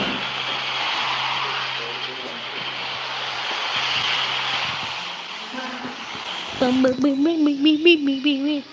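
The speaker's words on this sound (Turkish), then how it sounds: "yani her gün bana bu uçak geliyor ya." Airplane engine from the game PUBG Mobile drones steadily overhead for several seconds as a loud, broad roar, then eases as a voice starts talking over the tail end.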